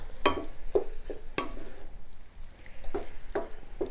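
A spoon stirs a thick mixture in a large hex-clad skillet, giving a few quiet, irregular scrapes and knocks against the pan with gaps between them.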